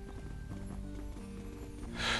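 Horse hooves clip-clop steadily as a horse is ridden in the Switch game Horse Club. The quiet, even rhythm is heard on its own.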